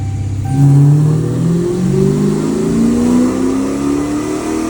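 Dodge Challenger ScatPack Widebody with headers, running E85, roaring through a full-throttle dyno pull from about 2200 RPM, its loud engine note climbing steadily in pitch with no talk over it.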